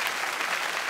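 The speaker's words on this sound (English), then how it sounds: "You can clap your hands for that." Church congregation clapping hands, a dense, steady burst of applause from a crowd filling the whole moment.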